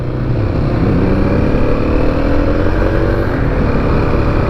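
A 2021 Kawasaki KLX300 dual sport single-cylinder thumper is ridden at speed, its engine a loud, steady throbbing drone mixed with wind rush, with no break throughout.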